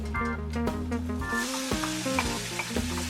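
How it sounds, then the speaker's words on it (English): Onions sizzling in a pan while a shrimp and grits dish is cooked, a loud close frying hiss with stirring scrapes, mixed with background musical tones and no talking. "Onions back in the pan."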